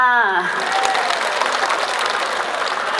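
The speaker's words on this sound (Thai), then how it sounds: "ทั้ง 20 ท่านคือผู้ที่สมควร ได้รับการปรบมือเป็นกำลังใจค่ะ" An audience applauds the twenty contestants at a Nopphamat pageant, a dense, loud wash of clapping that starts right after a voice and holds steady throughout.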